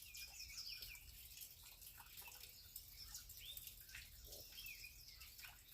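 Birds sing and chirp in short, bright calls from a distance in a quiet outdoor spot, with a steady low hum and faint dripping beneath them and no talking.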